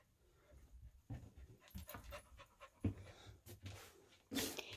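Puppies pant close by in quick, breathy, irregular huffs, broken by a few louder snuffs and bumps, fairly quiet overall with no voices over them.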